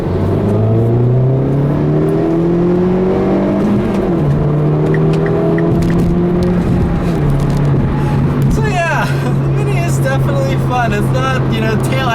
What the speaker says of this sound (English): do a little second gear pull as I merge onto the highway